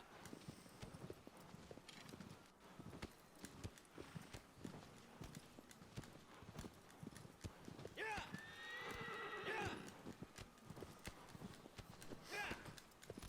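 In the video game Shadow of the Colossus, a horse gallops with steady rhythmic hoofbeats and lets out a loud neigh partway through.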